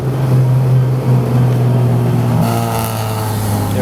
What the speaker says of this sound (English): I like listening to the intakes breathing in. I like listening to the exhaust